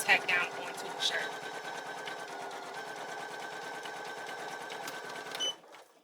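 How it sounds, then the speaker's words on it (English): Poolin EOC06 embroidery machine stitching a placement outline onto a shirt, a rapid steady mechanical whir and patter running nearly six seconds before stopping abruptly, close and fairly quiet. "I'm going to push start, and it's going to do that placement stitching all over again"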